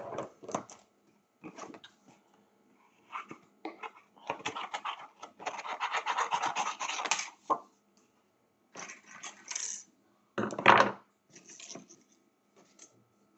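Scissors cutting through paper during a crafting session, a series of short snipping and rustling bursts close by, with a longer continuous cut in the middle and quiet gaps between strokes.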